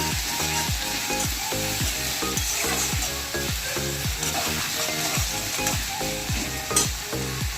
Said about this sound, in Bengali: পেঁয়াজটাকে এবার আমি হালকা ভাজা ভাজা করে নেব।